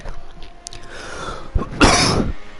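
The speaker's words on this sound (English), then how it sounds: "Sorry if I keep coughing so much" A single harsh cough, close and loud, follows a brief throat noise, with faint background hiss before it.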